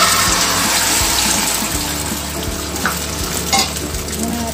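Eggs frying in a hot pan that has just been switched off after smoking, a steady close sizzle with occasional scraping and stirring sounds.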